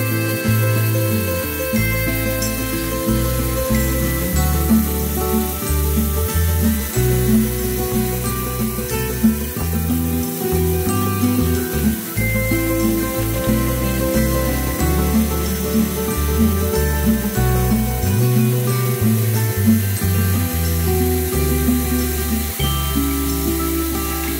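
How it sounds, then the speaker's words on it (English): A lathe hums steadily and loudly throughout while sandpaper rasps against a spinning turned wooden bowl, sanding to 400 grit, a continuous whirring drone without pauses. "sanding to 400."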